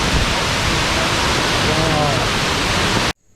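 Water rushes steadily near Abbey Falls in Coorg, a loud, unbroken waterfall roar that fills the scene before cutting off abruptly at the end.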